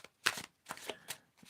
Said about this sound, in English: See how nice that shuffles?